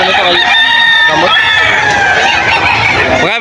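Roosters crow loudly and close at the Bocaue pet market, with long strained calls and hens clucking nearby, while people talk over the din.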